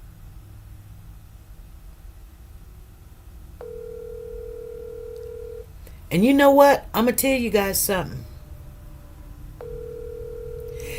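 A phone tone plays while a call is being placed. A steady electronic tone sounds in two separate stretches, and someone talks in between them.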